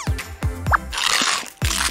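Hard blue raspberry candy is crunched between the teeth in loud, close bites, several sharp cracks in quick succession followed by grinding chews.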